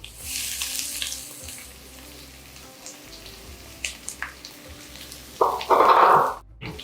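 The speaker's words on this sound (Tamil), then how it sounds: "இந்த வெங்காயம் வந்து கொஞ்சம் வதங்கட்டும்" Onions sauté, sizzling softly in a hot pan with occasional stirring clicks, ending in a short burst of louder frying.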